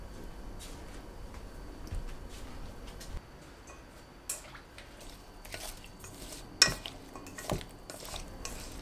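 Cucumber, garlic and ginger are mixed with soy sauce, vinegar, sugar and doubanjiang in a bowl, giving soft wet stirring with scattered light clinks and taps of a utensil against the bowl, quiet and close.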